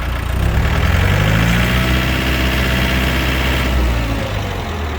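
A Japanese mini tractor's small engine, with 682 operating hours, runs steadily and close by, its low rumble holding an even speed without sputters, with no voices.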